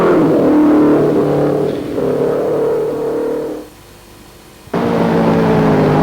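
Pre-war racing cars rev loudly at Crystal Palace circuit, engines howling and fading as they pass, dropping to a lull before another car bursts in close and loud.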